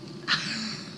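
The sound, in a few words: person imitating an osprey call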